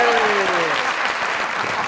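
An audience breaks into brief, dense applause at a romantic stage show, close and steady clapping that carries under the fading tail of a voice.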